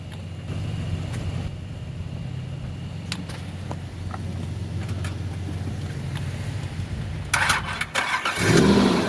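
A car engine started with a LokiTHOR JA301 jump starter rumbles at a steady idle, then surges into a louder, rougher burst near the end.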